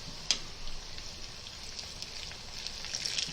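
Soft, steady crackling sizzle of mustard seeds, cumin and chilies frying in hot oil as a tadka for dal, with a sharp pop near the start and light spitting throughout.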